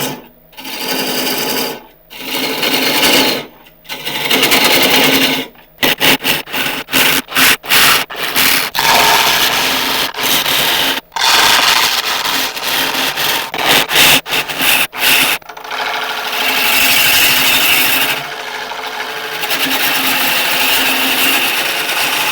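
A wood lathe turns and hollows a mallee burl, the tool cutting in loud, rasping bursts broken by short pauses, then long sustained scraping passes near the end.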